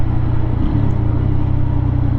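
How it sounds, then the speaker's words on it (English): A Lifan KPM 200 single-cylinder motorcycle engine with a quiet exhaust runs steadily, giving a loud, close, low rumbling drone with an even pulse and no revving. "This little single cylinder with this quiet exhaust."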